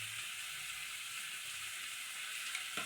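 Spices with salt, sugar and Kashmiri chilli frying in a pan, a steady close hiss and sizzle running throughout, ending with a brief clink.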